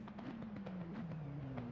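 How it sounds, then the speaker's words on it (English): Fireworks at the Monza circuit in a racing video game, a fast run of short popping bursts over a steady low engine hum, moderately loud throughout. "Fireworks going off."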